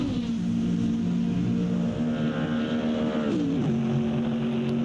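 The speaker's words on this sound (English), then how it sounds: "That Lexus RCF GT3 sounds so good." Lexus RC F GT3 race car at Road America, a loud sustained engine roar holding a steady tone before a quick pitch drop as it shifts or lifts, with wind noise.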